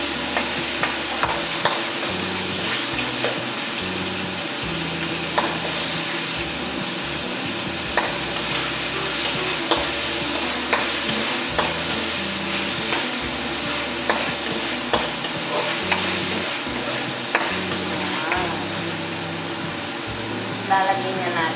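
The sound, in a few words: sautéing onion and garlic in a pan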